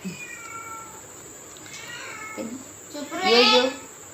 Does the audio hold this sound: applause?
no